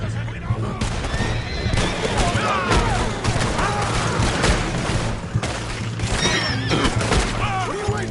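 Red Dead Redemption 2 gunfire crackles through a chaotic scene, repeated shots mixed with horses whinnying and galloping while people shout over the din.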